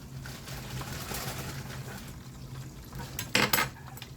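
Butter melting in a frying pan under a tortilla for a quesadilla gives a soft, steady sizzle, with a brief burst of utensil clatter and scraping near the end.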